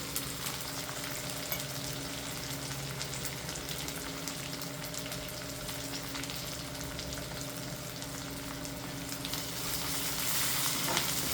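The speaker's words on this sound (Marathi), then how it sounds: "आणि त्यामध्ये टाकते आपला कढीपत्ता याच्याशिवाय चव नाही कढीपत्ता कढीला लागतो आणि हे बघा एवढी मी हळद टाकून घेते" Curry leaves and turmeric sizzling in hot oil as a tempering for homemade yogurt kadhi, a continuous crackling fry heard up close that grows a little louder near the end, with no speech.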